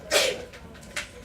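A single sharp sneeze in a classroom, fairly close, followed a moment later by a fainter short breathy burst.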